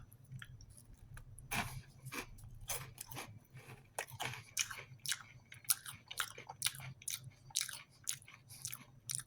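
Crunchy barbecue fries from a ration meal chewed close up, with a rapid series of crisp bites and crunches over a low, soft mouth rumble and no speech.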